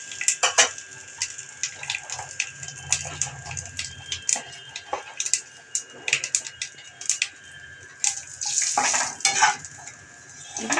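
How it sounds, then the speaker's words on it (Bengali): Bay leaves and cumin seeds fry in hot oil for a tempering, giving a faint steady sizzle broken by sharp clinks and scrapes of a utensil stirring in the pan, with no talking. "এবার আমি ফোড়নে দেব তেজপাতা দুটো সাদা জিরে একটু ফোড়নটা ভাজা ভাজা হলে একটা সুন্দর স্মেল বেরোবে"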